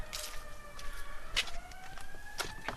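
Sirens rise and fall from a distance in steady wails, faint and far off, layered over light street ambience with no speech.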